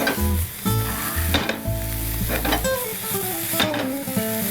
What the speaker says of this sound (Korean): 자 이렇게 해서 아주 맛있게 잘 볶아졌습니다